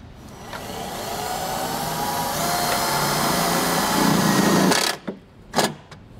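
A power drill whirs steadily and climbs in pitch as it drives a self-tapping screw on a 2022 Jeep, then stops, followed by a few short bursts.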